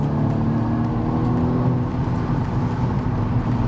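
Engine of a 2019 BMW M135i pulling hard under acceleration, a steady loud low drone with a slight dip that may mark a gear change, close and continuous with no voices.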